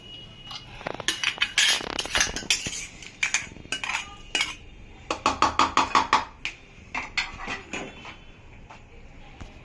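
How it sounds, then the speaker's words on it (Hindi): Metal spoon clinking and scraping against a steel bowl while dry fruits are mixed for laddu, in irregular bursts of sharp taps and rattles with quiet pauses between, close up. "अब मैं ये सारे ड्राई फ्रूट्स में मिक्स कर देती हूँ"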